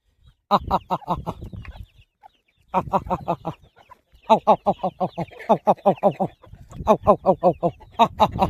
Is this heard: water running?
no